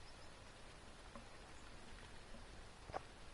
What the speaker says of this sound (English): it's really raining here